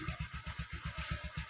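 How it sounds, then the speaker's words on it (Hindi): Motorcycle engine in cold weather, just started and running with a steady, rapid low thumping pulse and a bright whine on top, close and fairly loud with no talking. "ये मेरा दोस्त वो बाइक स्टार्ट कर रहा है"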